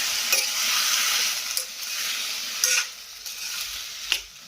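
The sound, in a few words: tomato pieces cooking and being stirred in a pan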